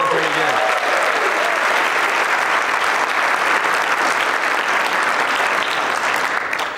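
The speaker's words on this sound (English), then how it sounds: "So give a round of applause for Sean Terry again." A conference keynote audience claps loudly and steadily for several seconds, a dense sustained wash of applause with some cheering.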